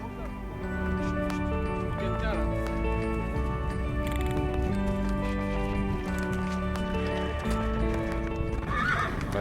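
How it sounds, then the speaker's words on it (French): Rescued wild horses whinny and neigh repeatedly over steady clip-clopping hooves, close and loud, with mixed animal noise building toward the end. "le cheval, même si c'est l'un des meilleurs amis de l'homme, il n'est pas toujours aussi docile qu'on le croit"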